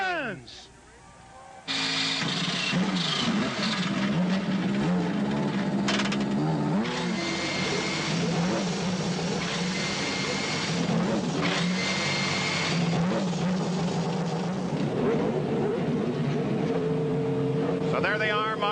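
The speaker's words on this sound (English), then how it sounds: "Drivers, start your engines!" Twenty-eight Indy race car engines fire up on the grid at the 1994 Detroit Grand Prix, a sudden loud roar after a brief quieter moment, holding a dense sustained rumble with overlapping revs throughout, with a commentator speaking over it.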